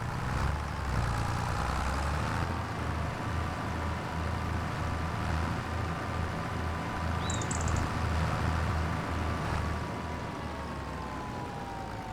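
A tractor engine in the video game Farming Simulator 25 idles steadily with a low, even drone, alone and at moderate level, with a faint chirp partway through.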